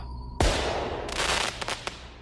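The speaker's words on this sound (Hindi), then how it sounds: "एक बहुत ही जोर के धमाके की आवाज आई" A single loud, sharp firework rocket blast bursts out of near silence, followed by a long rumbling tail and a few crackling pops.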